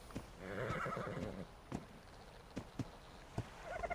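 Game horse named Rocket neighs and whinnies in a loud, wavering call near the start, then a few sharp hoof clops and thumps follow, with no talking.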